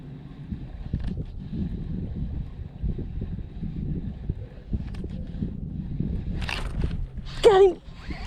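Wind gusts across a lake during largemouth bass fishing from a boat, producing low, rumbling buffeting against the microphone throughout, with faint voices and a short excited shout near the end.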